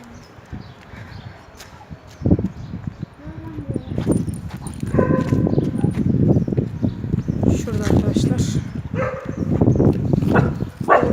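A guard dog kept at a bird seller's shop barks repeatedly up close, in loud irregular bursts that run through most of the clip, with a person talking now and then between the barks.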